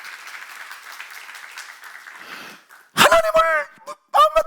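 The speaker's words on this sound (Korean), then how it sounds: "우리 목사님이 지금 누리고 계시다고 믿는 사람만 박수" A church congregation at a seminar claps briefly and faintly for about two seconds, then fades out before loud speech takes over.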